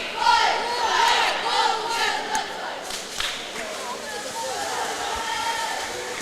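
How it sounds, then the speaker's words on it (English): Northridge Vikings ladies cheer squad at a high school boys basketball game: loud unison chanting and shouted cheers, with crowd noise and a few thumps underneath. "This is your Northridge Vikings ladies cheer."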